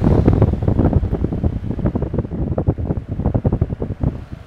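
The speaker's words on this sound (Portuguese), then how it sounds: "Agora nós vamos ligar o Cap Motor na mesma velocidade." A Keppe Motor runs at steady speed, around 1300 rpm, giving a loud, continuous whirring hum with rapid pulsing beats throughout, and no voices over it.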